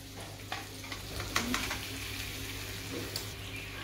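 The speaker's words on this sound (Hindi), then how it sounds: "पनीर को हल्का सा भूनने के बाद" Paneer fries lightly in a pan with a steady, soft sizzle, punctuated by a few brief scrapes of stirring, heard close up with no talking.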